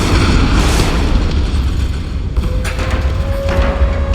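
Video game explosions make a loud, dense booming roar that rumbles on without pause, with a few sharper crackles near the end.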